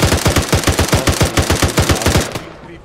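Rapid automatic gunfire in Arma 3 cracks out in a steady burst of about twenty close, loud shots before cutting off abruptly.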